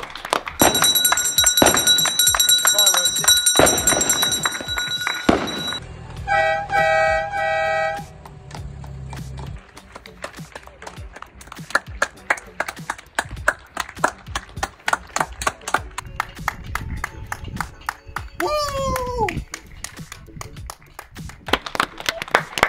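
People clapping outdoors in the evening in support of the NHS, mixed with honking car and truck horns, ringing bells and scattered rhythmic claps from a distance, steady across the neighbourhood.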